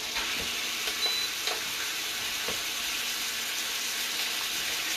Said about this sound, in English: Now, you hear the sizzle?